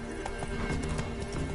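Hooves of Roach, a horse in The Witcher 3 video game, clip-clop in a steady quick rhythm over a constant game backdrop, with a faint whinny.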